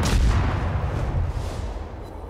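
A single heavy warship gun salvo in a naval video game, a loud deep boom at the start that rolls off into a fading rumble over a couple of seconds.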